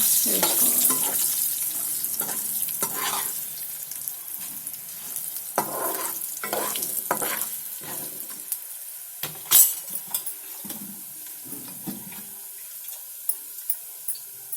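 Green chillies and curry leaves sizzle and crackle in hot oil for a cabbage curry, a steady frying hiss broken by scraping stir strokes and a sharp spatter near the middle.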